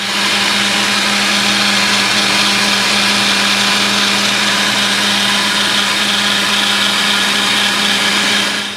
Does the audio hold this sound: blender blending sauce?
yes